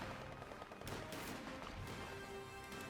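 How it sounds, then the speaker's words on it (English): Dense bursts of gunfire rattle through a Company of Heroes 2 battle, with overlapping rifle and machine-gun volleys, heavy crashes and explosions forming a continuous moderately distant fusillade. "Kholodny currently firing at the rear echelon squad in the far north"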